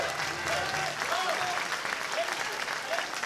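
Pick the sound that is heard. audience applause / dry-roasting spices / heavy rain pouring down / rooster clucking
audience applause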